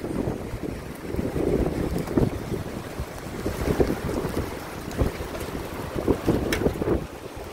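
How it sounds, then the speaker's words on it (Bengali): Heavy rain pours down at a construction site in Malaysia, a dense, continuous rush with gusty wind buffeting the microphone and scattered splashes and knocks throughout. "কাজ করতে করতে সেই আকারে বৃষ্টি শুরু হয়ে গেছে"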